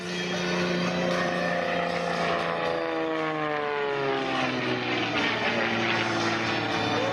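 Propeller aerobatic airplane performing a loop with a snap at an air show, engine droning loud and steady with a clear pitch shift as it sweeps past.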